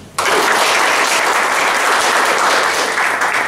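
Steady applause for Robin from an audience at a customer-centric culture talk, a loud, even clatter of many hands starting abruptly and continuing without voices.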